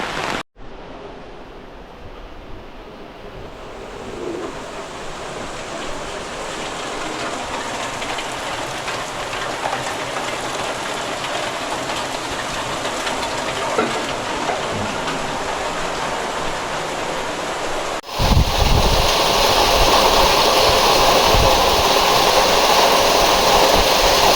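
Heavy rain pours steadily with stormy wind in a Konkan village where a tree fell onto a house, a dense continuous roar that swells abruptly louder near the end.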